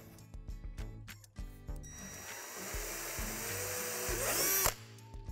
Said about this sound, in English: there's one more divot that needs to be drilled out.